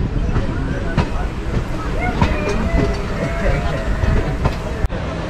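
A train crossing toward Dum Dum Junction on the Kolkata route rumbles along the rails at moderate level, with steady clatter, a few sharp knocks and a brief bang near the end.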